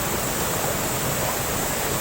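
Secret Falls waterfall runs with a strong current after a typhoon, giving a loud, steady, close roar of rushing water that holds unbroken throughout.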